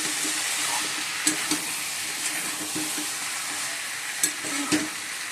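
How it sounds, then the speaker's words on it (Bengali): Hot water poured over mutton and potatoes frying in a pan gives a steady loud sizzle and hiss, with a few brief clinks and knocks scattered through it. "আলুগুলো দিয়ে দিয়েছি আর মাটনটা কষানো হয়ে গেছে ঠিক আছে চলো এবার গরম জল দিয়ে দেবো"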